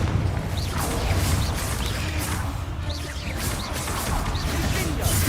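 A Confringo blast spell in a Harry Potter video game goes off amid a dense, loud, continuous wash of crashing and whooshing combat effects, with repeated bursts and impacts layered over a rumbling low end.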